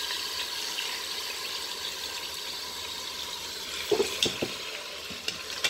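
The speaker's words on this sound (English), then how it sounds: "Ooh, you hear that sizzle?" Beef chunks sizzling in hot oil in an Instant Pot for stew, a steady crackling hiss with a few sharper spatters and stirring clinks near the end, close by with no talking.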